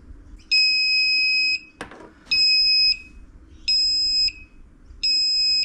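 A JK BMS (battery management system) electronic alarm beeps in four long, shrill tones at a steady rhythm, close and loud, with a short clatter between the first two.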